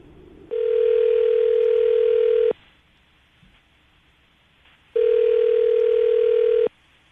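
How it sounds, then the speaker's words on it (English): A telephone line tone rings in two long steady bursts separated by a quiet gap, loud and close, as a call is placed to a phone number, with no talking over it. "we're about to dial her phone number right now"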